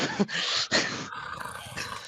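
A dog growls low and rough in a few close, short rumbling bursts, with no talking over it.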